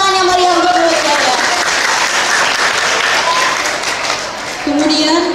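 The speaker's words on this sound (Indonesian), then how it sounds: "Beri tepuk tangan yang meriah untuk Bu Jaya." A crowd at an Indonesian church youth day celebration claps in loud, sustained applause, dense and continuous throughout, with a voice speaking over it at times.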